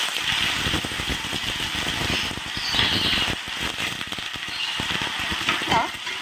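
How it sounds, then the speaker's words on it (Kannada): Chopped garlic and small ginger pieces frying in hot oil while being stirred in a pan, a steady close sizzle with scraping, clattering stir strokes throughout. "ಒಂದು 4 ಚಿಕ್ಕ ಚಿಕ್ಕ ಪೀಸ್ ಆಗಿರುವಂತಹ ಶುಂಠಿಯನ್ನ ಹಾಕೊಂಡು ತಿರುಗಿಸ್ಕೊಳ್ಬೇಕು."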